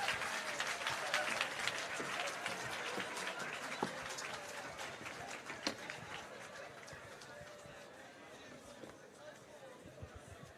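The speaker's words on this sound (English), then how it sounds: "One more round of applause for Leighton Smith" Applause at an education awards ceremony, fairly faint and distant, with scattered claps and crowd murmur fading gradually, while voices talk over it.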